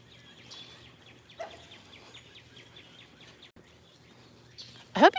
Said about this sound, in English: I hope you can hear all these birds.